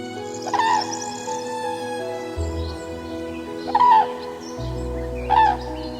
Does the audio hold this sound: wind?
no